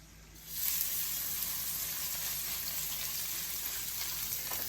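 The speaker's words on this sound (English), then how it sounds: "We are going to just cook a steak for us to eat." A seasoned steak sizzles in a nonstick skillet, a steady frying hiss that starts after a brief quiet moment and continues evenly at moderate level, with no voices.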